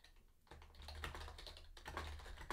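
Rapid, steady typing on a computer keyboard while entering setup details for a TypeScript Node package, with clustered key clicks and brief pauses, close and fairly quiet, with no talking.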